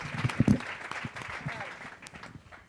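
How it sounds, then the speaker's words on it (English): Audience at a health institute presentation gives a short round of applause, a few scattered claps that thin out quickly, with people talking over it. "How about a round of applause for the Friendly Feud?"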